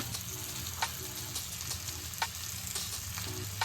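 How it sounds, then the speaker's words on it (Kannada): Onions and tomatoes cooking in a pan with turmeric being stirred in, a steady sizzle with soft spoon scrapes and light taps repeating across the clip, close and alone without talk. "ಇವಾಗ ಈರುಳ್ಳಿ ಮತ್ತು ಟೊಮೊಟೊ ಬೇಯ್ತಾ ಇರುವಾಗ ನಾನಿಲ್ಲಿ ಅರಿಶಿನ ಆ್ಯಡ್ ಮಾಡ್ತಾ ಇದ್ದೀನಿ"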